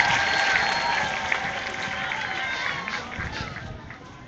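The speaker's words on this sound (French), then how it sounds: "On applaudit encore pour notre maman." Audience applause at a live event honouring a mother figure, a broad steady wash of clapping from a crowd, moderately loud and continuous throughout, with a faint voice mixed in.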